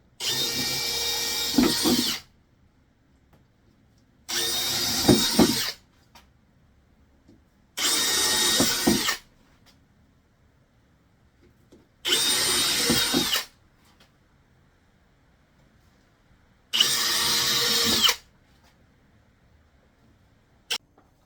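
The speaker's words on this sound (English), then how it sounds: "Now I'm going to quickly do a pilot hole so the hole saw can fit in a bit better." A drill bores a pilot hole in wood for a hole saw: five loud whirring bursts of about two seconds each, separated by quiet pauses, close up with no talk.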